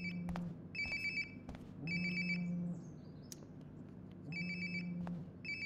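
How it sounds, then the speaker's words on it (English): A phone ringtone in the video game Life is Strange: Before the Storm chimes in repeated bursts, each a bright electronic trill over a low hum, recurring about every two seconds with no talking. "Grandma has that exact same ringtone as well. Sounds like my phone is definitely nearby."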